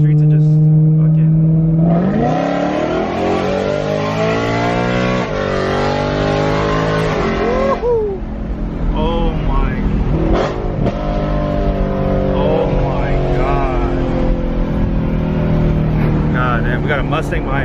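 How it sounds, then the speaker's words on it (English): A Ford Mustang engine revs hard on a city street, climbing through loud rising pulls and then blipping through downshifts, close and throaty, with people talking over it inside a following car. "We got a Mustang behind me. Superior legendary downshifts."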